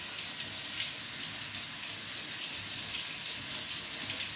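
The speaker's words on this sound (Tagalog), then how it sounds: "hugasan siya natin ng husay para luto-luto siya at pagluto ay malinis" Water runs steadily from a tap while crabs are washed in a sink, making a continuous, even, hissing gush at a moderate level throughout, with no voices.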